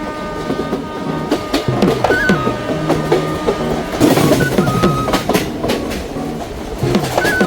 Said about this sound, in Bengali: আমাদের ট্রেন দমদম স্টেশন ক্রস করছে।